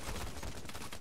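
Gunfire during a Payday: The Heist bank job, a dense rattle of rapid overlapping shots packed into a single loud second.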